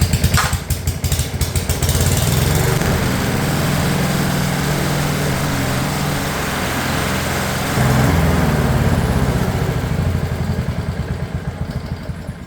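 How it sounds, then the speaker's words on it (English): Honda HRU196 lawn mower engine pulled into life with a few quick sputters, then running loud and close at a steady, buzzing idle for several seconds. "So we'll just start the engine and run it for about a minute."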